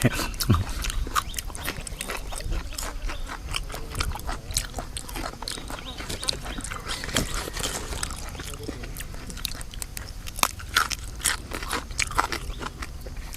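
Crunchy Thai spicy salad (yam) with shellfish and vegetables being eaten close to the mic; steady rapid crunching and chewing bites, fairly quiet, with no talk over it.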